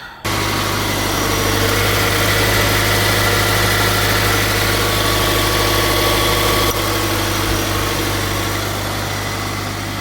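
A Subaru BRZ / Toyota GR86 engine idles steadily after a tensioner pulley replacement, with a low, even hum and mechanical vibration, running smoothly with no squeal throughout.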